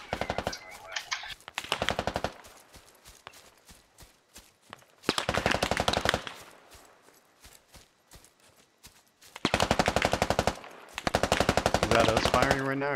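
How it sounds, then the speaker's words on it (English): Automatic weapon fire in Squad on the Gorodok map, several long rapid bursts of loud close gunfire separated by quieter stretches with scattered single shots. "Is that us firing right now? Are you guys shooting?"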